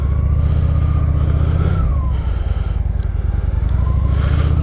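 A Honda Shadow 750cc cruiser motorcycle rumbles loud and close while being ridden, a deep continuous engine drone with a brief shift in pitch midway and wind noise over it.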